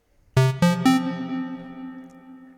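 A guitar through a Mutant Reverb pedal set to a short reverb size: three plucked notes ring out in quick succession and decay smoothly with a brief, tight tail, clean and isolated.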